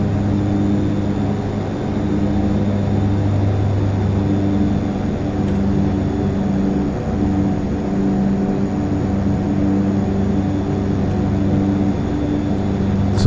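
Steady engine drone of an airplane rolling down the runway for takeoff in the Prepar3D flight simulator, a constant low hum with tonal layers that holds evenly and stays fairly loud throughout.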